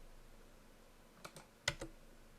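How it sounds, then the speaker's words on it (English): Faint computer keyboard clicks: a soft double tap followed by a sharper, louder double keypress, with quiet room hiss around them. "just press F9 on your keyboard"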